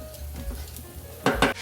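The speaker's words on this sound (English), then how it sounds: "I want to give this a stir and bring this to a boil." Stirring butter, fresh ground pepper and water in a pot on the stove, a faint simmering hiss followed by two quick, loud scrapes of a utensil against the pot.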